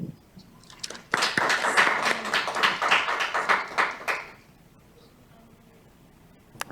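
An audience at a school district board meeting claps after a parent's public comment. The applause starts abruptly, holds as a steady burst of many hands for about three seconds, then dies away into a quiet room.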